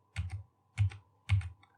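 Keys on a computer keyboard are pressed three times in an even rhythm, each a close, quiet double click, with silence between.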